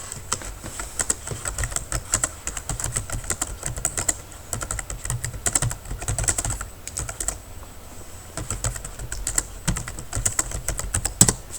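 Steady, fast clatter of keys on a computer keyboard while entering text in a spreadsheet, close and continuous with brief pauses, no voices.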